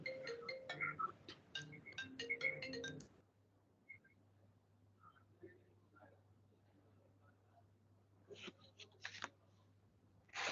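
A mobile phone ringtone plays a quick melodic pattern of bright repeated tones for about three seconds during a court hearing, then stops; a low steady hum and faint murmurs follow, with a few clicks near the end.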